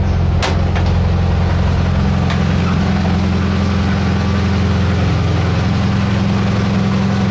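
A car engine holds a raised, steady idle, its low droning hum continuous, close and fairly loud throughout, with no talking.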